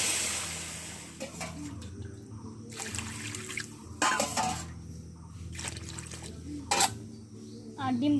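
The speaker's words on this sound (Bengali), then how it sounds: "দিয়ে দিচ্ছি জল" Water is poured into a pot of diced potatoes set to boil on a home stove, a faint trickle and splash over a low steady hum, with a few sharper clattering knocks.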